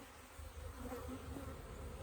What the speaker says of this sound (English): Whole bunch of bees on this frame.